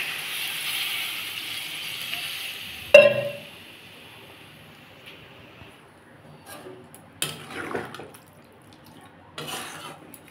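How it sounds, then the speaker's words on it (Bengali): Water is poured into frying spices in a pan for shukta, bringing a sudden loud hiss and burst that fades quickly, followed by quiet bubbling and a few clinks of utensils against the pan. "এর মধ্যে এবার জল ঢেলে দেবো।"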